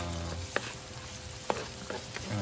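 Squid frying in a pan, a steady close sizzle with a few brief clicks of stirring utensils against the pan.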